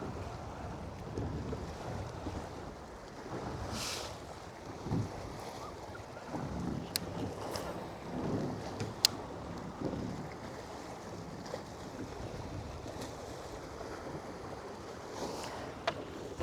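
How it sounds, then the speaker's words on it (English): Steady wind buffets the microphone while someone fishes from a boat on a bass lake in spring, a continuous low rumble with faint water lapping and a few small knocks against the hull. "Windy."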